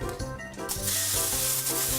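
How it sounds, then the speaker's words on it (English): A steady hissing of cooking spray onto a long sheet of aluminum foil lasting a couple of seconds, close by, with faint rustling at the start. "Spray your foil."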